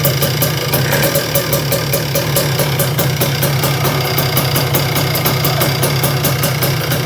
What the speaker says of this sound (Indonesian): Untuk contoh suara kalau bloknya sudah bermasalah itu seperti ini